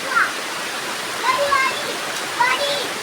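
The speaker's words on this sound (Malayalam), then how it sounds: "മഴ പെയ്യട്ടെ മഴ പെയ്യട്ടെ" Rain falls steadily outdoors during the rainy season, a close, even wash of hiss with a few faint chirps and soft brief surges scattered through it.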